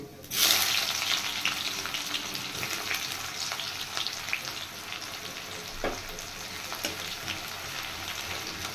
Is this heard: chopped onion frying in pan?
yes